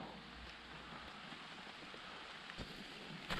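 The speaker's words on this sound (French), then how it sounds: "il pleut" Steady rain falling outdoors during a motorcycle trip across France, a soft continuous hiss with a few faint splashes and thumps.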